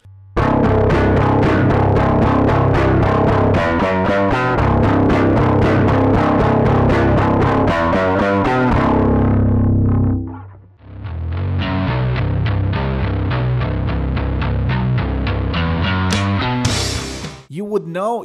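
An electric bass plays a repeating, fast-picked riff through distortion and chorus effects, loud and continuous. It pauses briefly near the middle, then starts again and ends with a bent, wavering final note.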